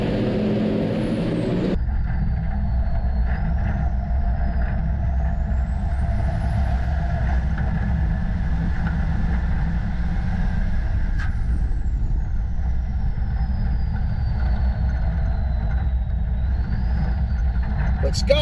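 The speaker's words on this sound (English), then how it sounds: "he is absolutely driving the wheels off that semi" Big rig semi trucks racing around Caraway Speedway, a North Carolina oval, their engines roaring loud and steady as they pass close, with a race announcer talking over the constant din.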